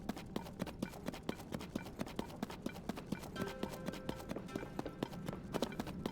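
Horse hooves clip-clop in a steady, quick rhythm throughout, a mount trotting in the game Zelda: Tears of the Kingdom, with a faint tonal game sound joining partway.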